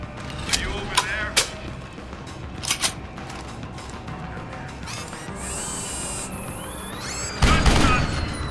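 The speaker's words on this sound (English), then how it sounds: "Gunshots!" Bursts of gunfire in the video game Deus Ex: Human Revolution, several sharp shots in the first seconds, then a sustained hum and a louder blast near the end, with game voices talking.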